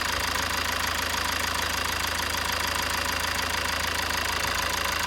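A 2007 Toyota Avensis D4D diesel engine idles with its EGR valve closed, giving a steady, rapid mechanical clatter and low drone that stays even and moderately loud throughout, with no voices.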